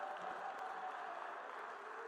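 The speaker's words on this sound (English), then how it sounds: "let us welcome him with a huge round of applause" Applause from a conference audience welcoming a plenary speaker at the BioAsia 2025 event, a quiet, steady wash of clapping that stays even throughout, heard from a distance.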